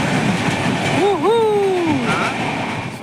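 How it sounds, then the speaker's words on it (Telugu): A train passes nearby outdoors with a steady, loud rumble that fills the clip. A person talks over it in the middle. "రైలు పోతుంది చూడండి"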